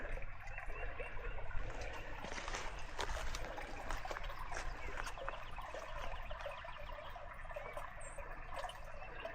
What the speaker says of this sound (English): You can see that the water is just gushing out the hole there.